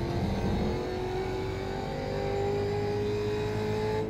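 A race car engine in the iRacing simulator drones steadily at high revs, its pitch slowly climbing, constant and moderately loud without pauses.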